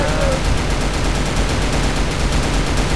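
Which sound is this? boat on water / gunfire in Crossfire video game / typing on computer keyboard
gunfire in Crossfire video game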